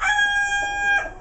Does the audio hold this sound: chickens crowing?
yes